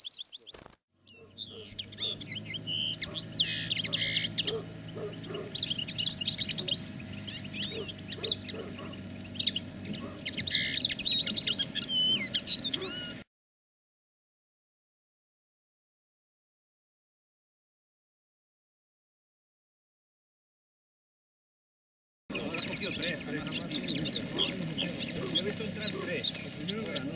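A goldfinch calls during autumn net trapping in a field, a busy run of bright chirps and twitters under background talk, broken by a long silent gap before the calls resume.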